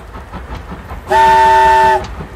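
A train whistle sounds one loud, steady, chord-like blast lasting about a second, standing out clearly over a quiet low rumble, with no voices.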